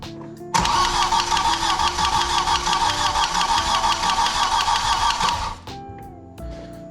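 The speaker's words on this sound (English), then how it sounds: "I have to crank it in the car while I push the clutch pedal in" A cold Audi 1.8T car engine cranks on its starter for about five seconds, a loud, fast rhythmic whirring churn heard close up, then cuts off to a quieter hum.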